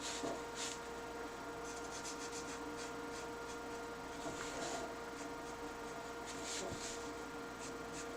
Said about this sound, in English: But these lines, use that chisel pen.